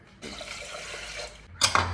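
Water pours steadily into a container for over a second, followed by a brief louder splashing burst near the end.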